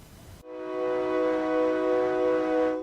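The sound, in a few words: train whistle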